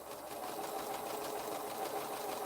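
A sewing machine stitches along a large curve in a quilt piece, giving a steady, continuous close-up whir with no speech.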